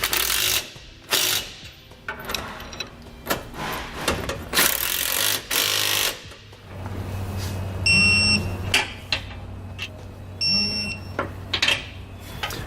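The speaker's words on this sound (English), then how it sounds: "I'm going to snug them up first, and then we'll torque them down to the specifications listed in our instructions." Wrench ratcheting as trailer hitch bolts are snugged and torqued down while fitting a TorkLift SuperHitch receiver, with bursts of close mechanical clicking and clanks in uneven runs and a few sharp squeaks.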